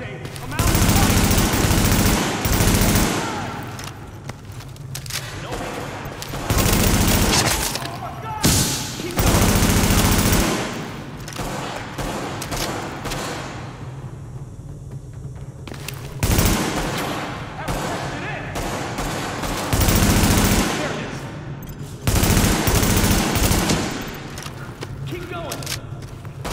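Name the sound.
gunfire in video game The Division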